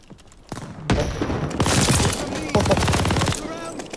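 Rapid automatic gunfire in a team deathmatch game, two long loud bursts of closely spaced shots separated by a brief pause, with quieter shots before them.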